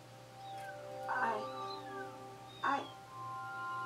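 Cartoon cats from Steven Universe meow in two distinct cries, each loud and close, set against a steady soundtrack hum, with a faint voice nearby.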